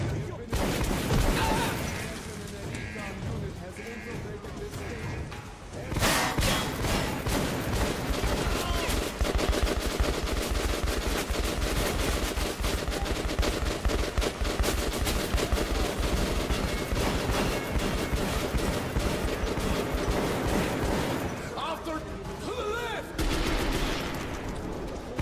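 Gunfire in the video game Metro 2033, with dense rapid bursts of automatic shots that continue loud and nearly nonstop, broken by a brief pause, with game voices shouting over the shooting.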